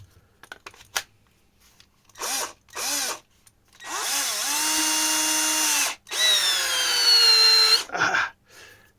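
Dnipro cordless screwdriver motor after a brush replacement, run in several bursts: two short whirs, then two long steady high-pitched spins of a few seconds each, close and loud, with a slight pitch rise during the runs.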